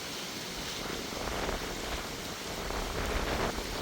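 Steady, dense rain pours down on an island during the monsoon, a broad continuous hiss with soft patter and no voices, close and even throughout.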